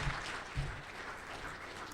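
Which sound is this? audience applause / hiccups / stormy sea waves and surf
audience applause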